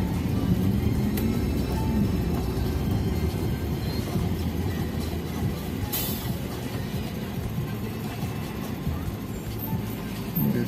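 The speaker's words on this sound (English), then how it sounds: "There's traffic on the bridge." Steady rumble of road traffic crossing a bridge over a river, continuous vehicle noise with wind buffeting, heard from nearby without talk.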